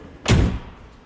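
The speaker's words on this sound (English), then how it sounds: "that's how a door should sound from these cars back then" A single solid thud of a car door slamming shut on a restored 1966 Dodge Challenger, close and heavy with a short low ring-out, heard alone with no talk.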